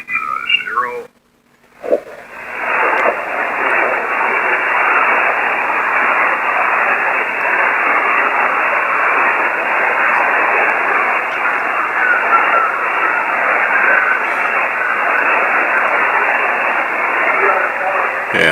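Amateur radio receiver hisses with loud, steady band static during a Parks on the Air hunt, a weak station on 14.326 barely audible beneath the noise, preceded by a brief garbled voice and a short dropout.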